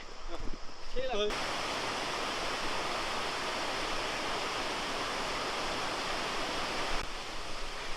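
A loud, steady roar of a waterfall close by near Nagarkot, Nepal, continuous and unbroken, with a brief voice at the very start.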